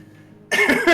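During a tabletop Dungeons & Dragons session, a player gives a sudden, hearty, rasping cough, voicing a character who sounds as if he is coughing up blood. It is a loud, close double burst after a moment of quiet room tone.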